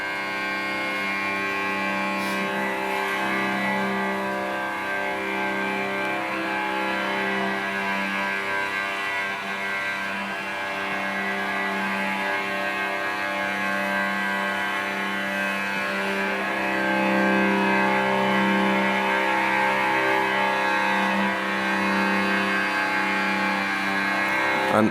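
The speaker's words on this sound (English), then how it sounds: "That's just two cellos playing." Two cellos play energetically on their lowest strings, giving a dense, sustained, grinding low drone that holds steady and swells slightly near the end, with no talk.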